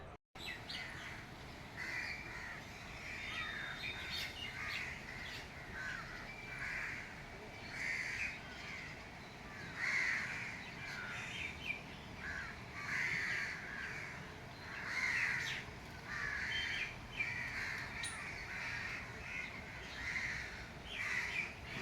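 Crows cawing repeatedly with pigeons around them outdoors, harsh calls coming in bursts at moderate distance over steady background ambience, with occasional faint voices.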